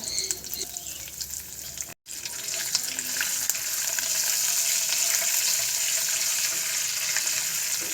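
Curry leaves and whole spices crackle and sizzle in hot oil in a pan, a steady close frying hiss with a brief break before it continues evenly.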